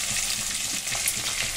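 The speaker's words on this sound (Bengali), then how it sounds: "আর এই মাছগুলো দেখো ভাজা করি" Fish sizzling and spitting in hot oil in a pan, a steady close crackle of frying with a few soft stirring scrapes, no voices.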